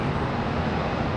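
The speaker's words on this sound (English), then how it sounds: "we've got a departure, American Airlines 2032" American Airlines Airbus A320 departing Charlotte Douglas International Airport, a steady, loud, broad jet roar held throughout a short moment.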